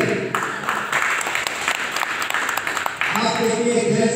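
Sustained audience applause at an opening ceremony program in Karbi Anglong, dense clapping that swells and continues throughout, with a voice speaking over it.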